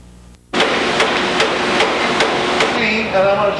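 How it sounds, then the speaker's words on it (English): Servo-driven cutoff knife chopping stock to length on a production machine, sharp regular cutting knocks roughly every half second over a loud, steady mechanical roar. "You select the desired cutoff length, and the servo drive tells the knife when to cut."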